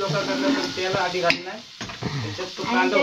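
Oil sizzling and crackling in a pan as onion fries, a steady close hiss running throughout, with voices talking over it.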